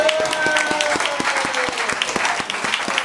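An audience at a live music session applauds after a run of songs, with steady clapping over fading instrumental tones and some sparse hand claps standing out near the front.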